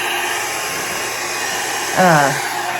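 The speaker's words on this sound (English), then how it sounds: "I have the dryer on." A hair dryer runs in a small warm room where acrylic paint and pigment are being dried, giving a loud, steady, close blowing roar that continues throughout, with a short tonal squeak near the end.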